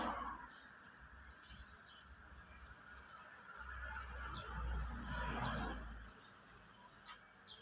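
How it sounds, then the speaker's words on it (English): A baby bird calls with thin, high chirps repeated through the clip, fairly faint outdoors in light rain, with low rumbling background noise beneath. "I heard a bird."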